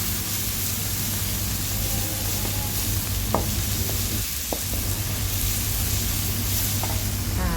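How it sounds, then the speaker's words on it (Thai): Aromatics sizzle as they are stir-fried in a pan for a Thai clam stir-fry with roasted chili paste. The loud frying hiss is constant throughout, with occasional light scrapes of a utensil. "จะผัดให้เครื่องหอมก่อนนะคะ แล้วเราค่อยลงหอยลายค่ะ"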